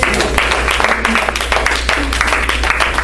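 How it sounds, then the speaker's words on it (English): An audience at a community conference breaks into a round of applause, dense close clapping that stays steady and even throughout the short stretch. "You all, please give him a round of applause."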